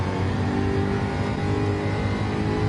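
A supercharged Jaguar race car roars past in a circuit race, its engine note dense and sustained with a steady loud drone and whine throughout, no talking.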